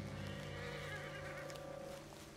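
A horse in the Red Dead Redemption video game whinnies faintly over a steady in-game ambient drone, the neigh sounding distant and subdued.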